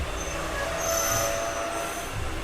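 Tirupati to Puducherry MEMU express train at Renigunta Junction, a steady broadband rumble of rolling rail cars with faint metallic wheel squeal tones, close and continuous throughout.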